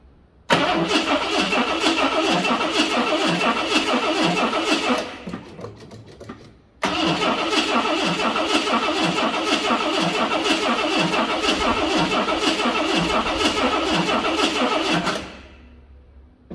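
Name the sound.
Ford XW Fairmont car engine starting and running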